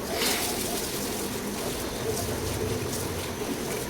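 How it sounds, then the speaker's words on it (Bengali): Rice being washed in water gives a steady, close swishing and sloshing that continues without a break. "এই তো আর চালটা ধুয়ে নিচ্ছি আমি"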